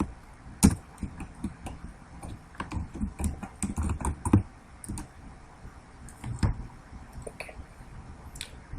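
DOS commands being typed on a computer keyboard, heard as close, irregular bursts of key clicks and heavier spacebar or enter presses in quick runs with short pauses, with no talking.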